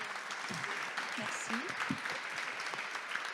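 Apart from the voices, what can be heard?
audience applause for speakers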